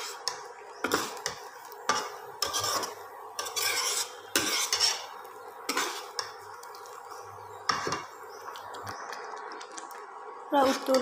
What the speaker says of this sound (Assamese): মই তিলত দিয়া আলুখিনি ভাঙি একদম মিহি কৰি দি দিছোঁ